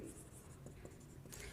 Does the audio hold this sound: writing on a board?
yes